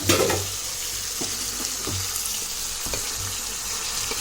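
Chicken liver hits a hot pan and fries in a continuous loud sizzle. A brief burst comes at the start, followed by a few light stirring knocks.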